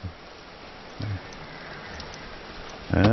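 Steady hiss of rain in a video game runs underneath, a dense even wash of noise, with a few low thuds and short game sounds breaking through.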